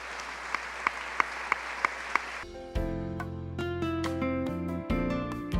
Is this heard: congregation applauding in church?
yes